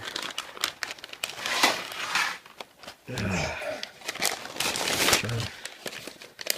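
Smoked brisket being unwrapped from its wrapping, done one-handed: crinkling and crumpling rustles come in bursts across the clip, with brief speech mixed in.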